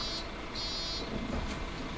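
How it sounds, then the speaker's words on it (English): Electronic beeping inside the Bus Simulator 18 driving game, several short high tones repeating over a low rumbling engine hum, fairly steady and moderately loud. "What the heck are you beeping for?"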